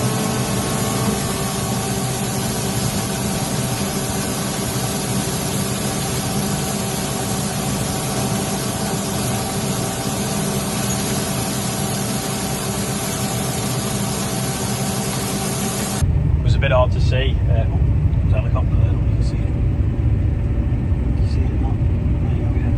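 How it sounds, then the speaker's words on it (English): A tractor works a hay tedder, shaking out straw in a field, as a steady, loud engine drone and mechanical rumble run continuously, with the noise changing and growing rougher and closer near the end. "So here's a quick video of Sam with the tedder."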